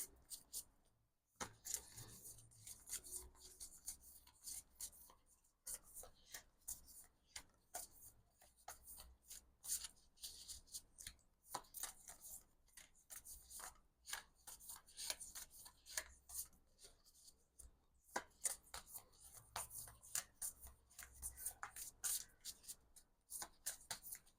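Tarot cards being shuffled by hand, giving soft, rapid riffling and rubbing flutters in uneven bursts with brief pauses, close and very quiet.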